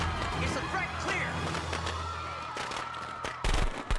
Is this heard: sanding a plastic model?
no